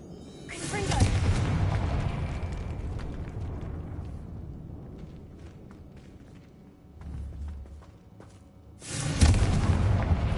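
Confringo blasting spell exploding in Hogwarts Legacy: a loud booming blast at the start, rumbling decay, then a second heavy explosion near the end, with a voice at times.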